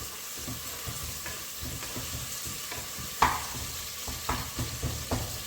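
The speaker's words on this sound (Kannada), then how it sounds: "ಈರುಳ್ಳಿ, ಟೊಮೊಟೊ ಒಗ್ಗರಣೆಗೆ ಹಾಕಿದ್ದೀನಿ." Steady sizzling of onion and tomato frying in oil, with repeated scraping and stirring knocks and one sharper clatter midway; no voices.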